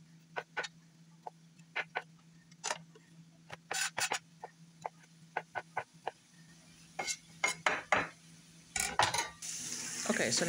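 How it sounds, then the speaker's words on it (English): Potatoes are stirred in a pan with peppers and onions: a string of sharp utensil scrapes and clinks against the pan at an uneven pace over a faint steady hum, with a soft sizzle at the end. "Once you get the potatoes in the pan, you're just gonna give them a stir"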